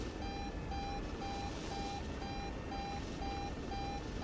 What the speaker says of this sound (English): is this like the helicopter's fucked beeping, or just like, it decided to start beeping